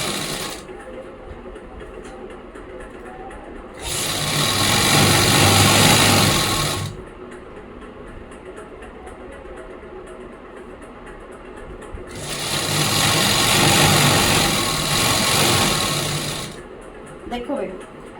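Sewing machine stitching the side seam of a simple kameez (shirt), running in two long loud bursts separated by quieter pauses where someone talks.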